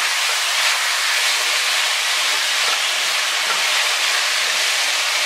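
Goat meat is tossed into a hot pot and sears with a loud, continuous, rushing hiss that holds steady throughout.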